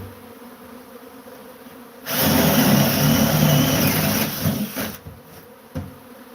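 Killer bees swarming around three new hives near a shed: a dense, loud buzzing swells in suddenly, holds for a few seconds, then fades back to a faint hum with brief swells.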